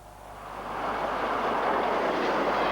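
The Flying Scotsman steam locomotive passing during a bicentennial exhibition run, heard as a broad rumbling roar that swells from moderate to loud and holds steady, with no voices.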